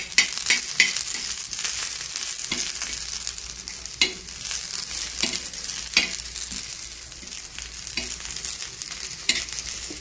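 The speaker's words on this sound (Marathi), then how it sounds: "आता आपला खोबरं आणि कांदा भाजून झालं।" Onion, grated coconut, ginger and garlic sizzle steadily in a pan, with repeated scraping and stirring strokes over a continuous frying hiss, fairly close and with no voices.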